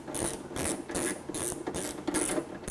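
T27 Torx screws being backed out of a tailgate latch: a close, repeated ratcheting click in about six even bursts, each a quick rattling sweep, heard alone with no talk.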